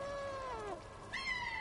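A cat's meows inside the video game Stray: a drawn-out falling cry, a short pause, then a second brighter meow, close and clear with no talking.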